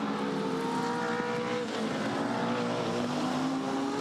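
Touring race cars, Mustangs and Camaros, race at Hidden Valley with a dense, steady engine roar from several V8s at once, sustained harmonic drone holding close and loud throughout.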